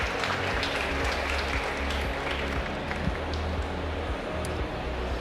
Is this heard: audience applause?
yes